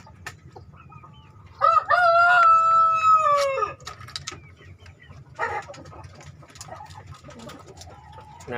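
A rooster in a group of breeder chickens gives one loud, close crow lasting about two seconds, followed by softer clucking from the hens.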